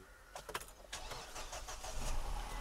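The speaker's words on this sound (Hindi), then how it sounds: "और गाड़ी भाई अपनी एक बार में स्टार्ट हो गई" A car engine starts in the cold, around 4 degrees, on a mountain morning near Solang valley: a few cranking bursts, then the motor catches and settles into a rising idle, moderately close with no talk.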